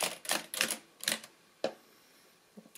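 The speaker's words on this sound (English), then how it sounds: "on the keyboard, the keys stay pressed down" Keys being pressed on the full keyboard of a Brunsviga 90 TA mechanical adding machine, a string of sharp clacks in an uneven rhythm followed by a single later click, close and clear.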